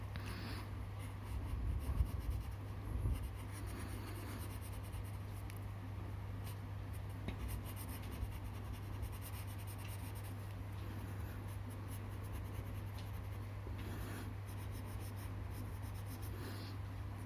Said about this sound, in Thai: ใช้สีน้ำเงินวาดแบบนี้เลย นะครับวาดก้านนะครับ จากนั้นก็วาดใบ กดๆเลยนะครับ